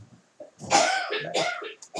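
Close, raspy coughing comes in a few rough bursts, some of them sounding like a throat being cleared.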